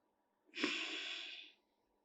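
A single slow, steady exhalation through the nose during yoga breathing practice, close and clear, lasting about a second against near silence.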